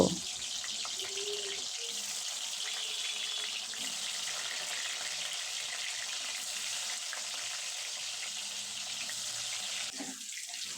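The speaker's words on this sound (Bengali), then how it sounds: "আলুগুলো তেলে দিয়ে দেব" Diced potato pieces coated in salt and turmeric fry in hot oil for chicken biryani, giving a steady, even hiss and crackle that runs unbroken for about ten seconds with no talking.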